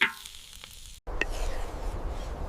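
Egg fried rice with chili and spring onions sizzles in a hot pan, then a brief gap and a scrape as it gets a final toss. The frying hiss stays loud and steady throughout, with no voices.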